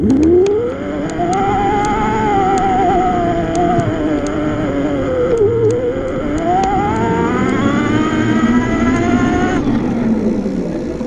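A Luna Cycle X-1 Ludicrous electric bike motor under throttle-only power, a loud whining hum whose pitch rises and falls, heard with ticking clicks and wind rush.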